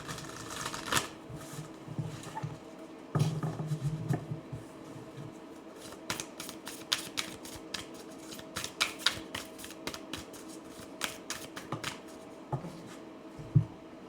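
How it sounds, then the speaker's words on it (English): Tarot and oracle cards being shuffled, a long run of quick papery riffles and sharp flicks, with occasional soft taps and bursts of shuffling over fourteen seconds, close up with no talking. "Okay, one more shuffle."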